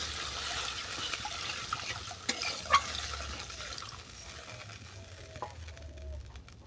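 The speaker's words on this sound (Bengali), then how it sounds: "এরপর দিয়ে দেবো পরিমাণ মতো জল" Water goes into cooked-down spiced masala in a pan while a rui fish and raw banana chochori is being made. A soft, faint sizzle carries light stirring clicks and scrapes close by.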